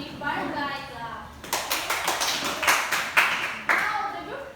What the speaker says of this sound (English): Let's give the group 1 a barangay clap.